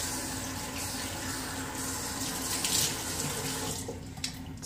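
Tap water runs steadily into a bathroom sink during a shave, a close, continuous splashing stream that thins out near the end.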